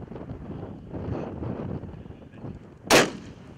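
A single sharp hunting-rifle shot cracks out near the end while stalking Vaal Rhebok in South Africa, a loud broadband burst over steady wind rumble on the microphone.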